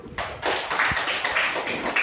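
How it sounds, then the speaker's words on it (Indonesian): Schoolchildren in a classroom clap their hands together, a busy burst of many small hands starting suddenly and continuing loud and uneven, with a few sharper taps standing out. "Nah, tepuk tangan dulu."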